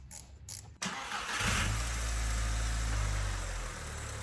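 A Volkswagen engine after a rough-idle repair, with its blow-off valve reconnected, starts up and settles into a steady, close idle hum.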